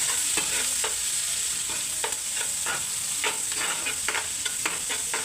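Onion and green chilies fry in a pan with dried red chili, while a spatula scrapes and stirs in repeated rhythmic strokes over a constant close sizzle.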